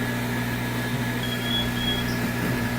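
Hot air rework station blowing a steady airflow over a 50-pin surface-mount component during soldering, a continuous even hiss with a low fan hum that holds unchanged throughout.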